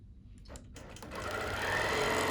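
Sewing machine stitching around a quilted penguin, starting with a few faint clicks and needle taps, then running up into a steady, close whirring hum that grows louder toward the end.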